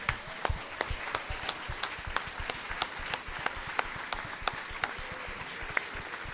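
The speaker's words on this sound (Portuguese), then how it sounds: "Uma salva de palmas ao Senhor" A church congregation at a New Year's Eve service claps in a steady rhythmic beat, moderately loud hand claps repeating evenly over a dense wash of applause.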